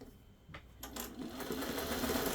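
A sewing machine stitches binding onto a vintage Grandmother's Flower Garden quilt: faint at first, then a quick run of needle strokes builds into a steady close whir.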